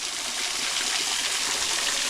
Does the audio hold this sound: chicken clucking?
no